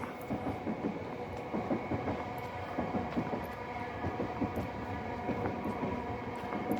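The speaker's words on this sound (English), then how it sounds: "As you can hear, there's more trains in the background." A train rumbles past in Wimbledon, London, with a rhythmic clickety-clack of wheels over rail joints, steady and moderately loud throughout.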